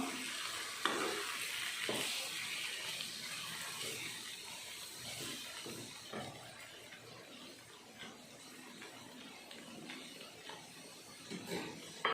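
Ground onion and tomato paste sautéing in oil in a home kitchen pan, a soft steady sizzle with occasional stirring scrapes, fairly quiet throughout.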